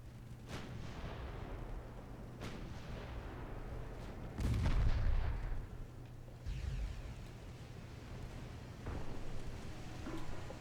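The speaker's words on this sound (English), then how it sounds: "Look at that rain of 3-inch gunfire." Naval gunfire from 3-inch guns in a naval strategy video game: a dense, continuous barrage of booming shots with one heavier burst in the middle, rumbling over a steady low engine drone, with no talking.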